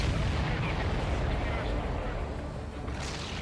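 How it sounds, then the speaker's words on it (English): A supply ship explodes in the Ace Combat 7 video game, giving a dense, sustained roaring blast that stays loud throughout with a rumbling low end and fades slightly toward the end. "Did you see that explosion?"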